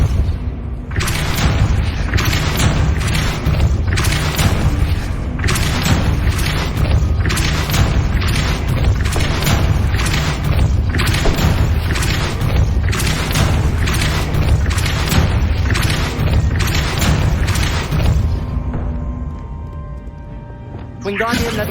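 Depulso force-push spell blasts fire off in Hogwarts Legacy gameplay, a long run of loud, punchy booms and thuds repeating roughly every second over a rumbling game soundtrack, then fading near the end.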